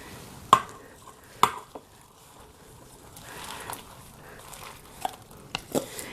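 Fresh baby spinach being added and stirred into creamy chicken gnocchi soup in an Instant Pot: soft rustling and stirring with a few sharp utensil clinks against the pot, close and fairly quiet.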